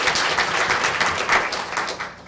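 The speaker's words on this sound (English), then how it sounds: "So another round of applause." Audience applause at a school board of education meeting honoring students, a dense, steady wash of many hands clapping for about two seconds with no talking.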